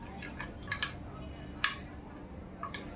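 A utensil clinks and scrapes against a bowl in short, sparse taps while prawns are mixed into a chilli garlic marinade; the sounds are faint and close, with quiet gaps between them.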